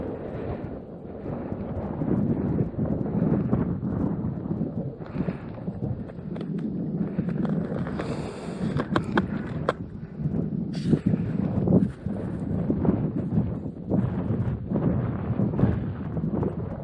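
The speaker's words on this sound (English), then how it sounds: "Definitely got some wind, but we made it." Strong wind buffets the microphone on the snowy, icy winter summit of Giant Mountain in the Adirondacks, a continuous low roar that gusts and swells throughout with no voices.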